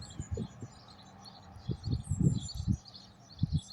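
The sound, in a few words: birds singing by a countryside road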